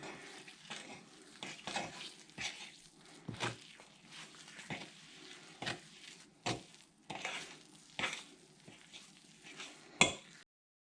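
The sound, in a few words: stirring scented paste with ambergris in pot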